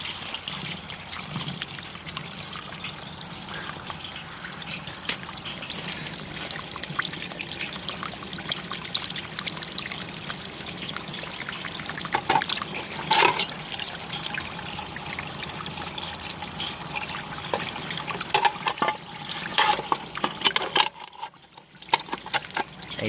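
Creek water pours steadily through a prototype self-cleaning drum strainer on an off-grid irrigation intake, a continuous close trickling splash with no talk, briefly dropping out near the end.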